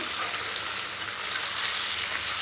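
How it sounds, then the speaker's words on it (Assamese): Meat fries in a pan with a steady, bright hiss of sizzling oil, even and continuous at close range. "এয়া মাংস ভাজাখিনি হ'বই আৰু বেছি সময় নাই"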